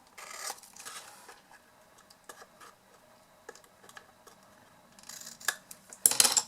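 Scissors trim a piece of a faceted craft box, producing a few sharp, close snips separated by quiet pauses, with the loudest cut at the end.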